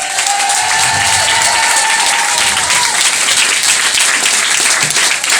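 Dense crowd applause fills a revue hall at a Prinse Revue carnival show, steady and loud throughout, with a faint sustained tone running beneath the clapping.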